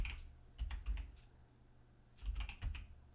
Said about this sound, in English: We just type the service